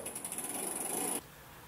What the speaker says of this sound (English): I'm just backpedaling. Nice and slowly.